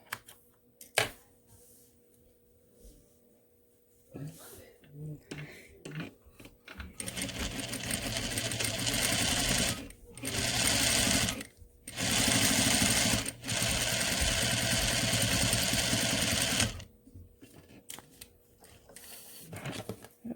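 A sewing machine top-stitching fabric face masks starts in several loud close bursts of rapid stitching, broken by short pauses, with quiet handling of the cloth before and after.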